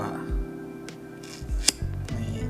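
Scissors cut into an MRE meal pouch, a few separate snips and crinkles of tough plastic packaging with a sharp click midway, close up and otherwise quiet.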